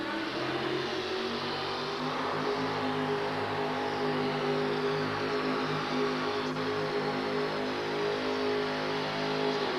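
A monster truck engine roars on its first run at a 1989 arena event in Orlando, a loud sustained rumble with steady harmonic drone and slight rising strain throughout.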